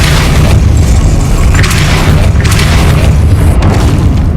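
Hogwarts Legacy video game spell effects: loud, dense booming bursts with rumbling blasts that repeat across a few seconds, without speech.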